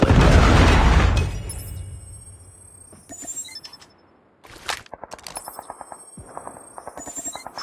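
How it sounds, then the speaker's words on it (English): Gunfire and explosions from a video game, with a heavy booming blast from a Predator missile strike followed by rapid bursts of close machine-gun fire. "friendly Predator missile inbound."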